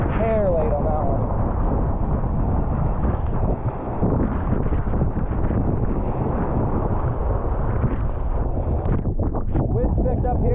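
Strong sea wind roars across the microphone while kayaking in a Pyranha Scorch Medium in Cortney Bay, New Brunswick. The rushing buffet is loud and steady throughout, with a voice faintly audible at the start and end.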